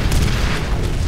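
Missiles detonate in a shooter video game during a mech fight, a single loud, close, rumbling boom that fills the moment.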